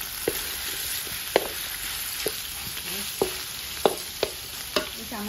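Pork belly fries in a pan, giving a steady close sizzle broken by sharp clanks and scrapes of a stirring utensil about once a second, with no talking.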